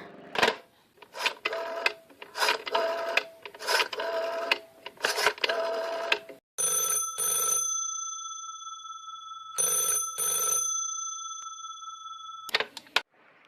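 A telephone rings in repeated bright, steady bursts during a tense radio drama, 'Sorry, Wrong Number', following a stretch of busier clattering sounds.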